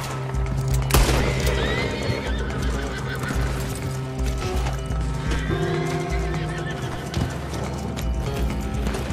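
A video game horse neighs loudly and whinnies while its hooves clip-clop in a steady rhythm close by, with scattered thuds and effects around it.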